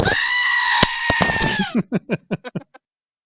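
A person imitates a goat, bleating loudly in a sustained wavering call, then trailing off in a quick run of about eight short, fading bleats.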